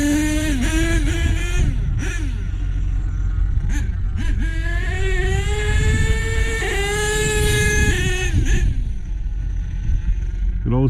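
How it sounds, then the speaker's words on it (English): A truck engine running continuously with a deep rumble and steady harmonic tones that rise and shift slightly in pitch, loud and close. "Good old problem truck sitting there idling the whole time."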